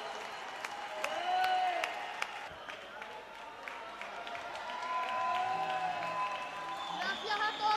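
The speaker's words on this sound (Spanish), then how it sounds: "¡Un fuerte aplauso!" Audience applause and cheering at a tapas contest prize announcement in Spain, a steady crowd clapping of moderate loudness with voices and whistles mixed in and other sounds rising over it.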